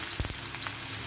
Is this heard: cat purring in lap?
no